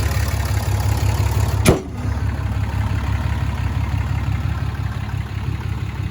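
A 2015 Ram 2500 Laramie 4x4 with the 6.7-liter Cummins turbo diesel idles with a steady low rumble and hum, broken midway by a sharp thud like a hood closing, after which the muffled running continues without talk.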